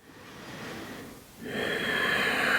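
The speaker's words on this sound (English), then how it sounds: "staying with those nice deep inhales and exhales as we move through our practice today" Deep breathing during a yoga session, a soft drawn inhale followed by a longer, louder, airy exhale, close and alone.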